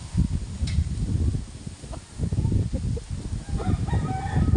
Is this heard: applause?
no